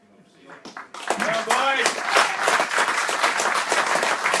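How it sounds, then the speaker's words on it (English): A crowd applauds and cheers a sports team as its players are introduced, clapping swelling to a loud, steady roar after an announcer speaks briefly at the start. "So give them a big cheer."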